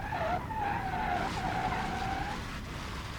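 A car in the BeamNG.drive game skids and spins sideways, a loud wavering tire squeal over engine roar that fades toward the end, with no voices.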